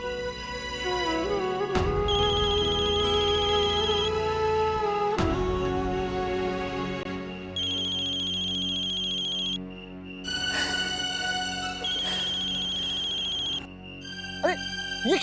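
A phone ringtone plays loudly for a long stretch, a melodic tune that stops, pauses briefly and starts again as the call comes through once more, with faint voices around it.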